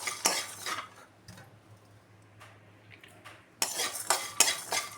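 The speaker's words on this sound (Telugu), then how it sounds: "ఇప్పుడు మిగతా ఇంగ్రీడియంట్స్ మొత్తం వేసేసి మొత్తం మంచిగా గోల్డెన్ బ్రౌన్ కలర్ వచ్చేలాగా ఫ్రై చేసేసుకోవాలండి." Peanuts and other ingredients frying in a pan, a utensil scraping and stirring in two bursts at start and end, with soft sizzling in between.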